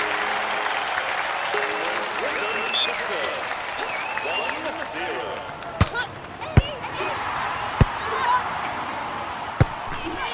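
Crowd cheering and applauding in the London 2012 video game, a steady broad roar of clapping and voices, with a commentator talking over it and several sharp thuds of ball hits standing out.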